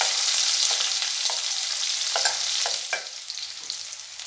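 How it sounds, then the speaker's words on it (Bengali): Dry red chilli, green chilli and lightly fried chopped onion sizzle steadily in hot oil, a continuous bright hiss with occasional soft scrapes and pops of stirring, close and alone. "তেলটা গরম হয়ে গেছে, ওতে দিয়ে দেব একটা শুকনো লঙ্কা, 2 টুকরো করে নেব, আর দেব কাঁচা লঙ্কা, আর হালকা ভেজে রাখা পেঁয়াজ কুচি"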